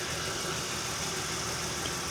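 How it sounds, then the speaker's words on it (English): A Honda car engine idling after running for a few minutes, a steady continuous hum with a busy mechanical hiss, even and unchanging throughout, with no voices. "Now it's been a few minutes of letting this Honda run."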